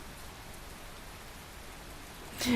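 Rain falls in the Tales of Berseria game as a steady soft hiss of drops, fairly even throughout, with a brief louder burst near the end.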